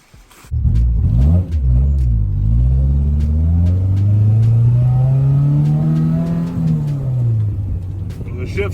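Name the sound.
1993 Honda del Sol B18C1 engine revving while driving, shifting gears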